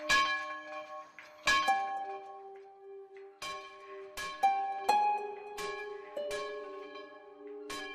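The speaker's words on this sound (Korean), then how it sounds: "교회 종을 치고 있는 작은 외할아버지" A church bell struck by hand by an elderly man in a rural village, ringing out in separate clangs with long shimmering tones that overlap and fade between strikes, clear and fairly near.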